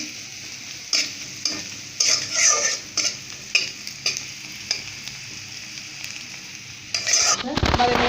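Garlic paste frying in a pan for koi fish curry, a steady sizzle broken by repeated spatula stirs and scrapes in bursts, ending with a louder clatter.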